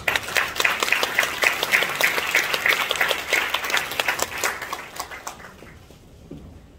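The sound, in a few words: applause in church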